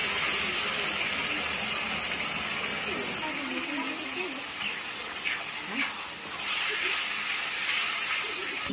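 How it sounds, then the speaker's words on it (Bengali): Spices tipped into lightly fried onions for a whole-wheat pasta dish make a continuous hissing sizzle in the pan, loud and close, with a brief flare of steam near the end. "পেঁয়াজটা ভাজা হয়ে গেছে আমার হালকা। এবার আমি মশলাটা দিয়ে দিচ্ছি,"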